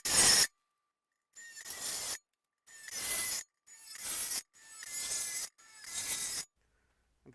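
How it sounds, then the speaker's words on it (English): A hole saw or punch cuts through metal for a fuel sump in six separate bursts, each a harsh grinding whine lasting about a second, with short silent pauses between them. "I'm going to punch 6 holes in this thing."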